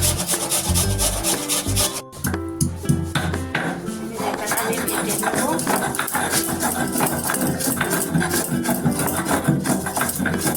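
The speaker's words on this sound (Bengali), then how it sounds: "এবার আমি পেঁয়াজটা ঘষে নেব" Onions for karela bharta are rubbed hard against a grater in a fast, continuous rasping rhythm, with a brief pause near the start and a clatter of kitchen utensils now and then.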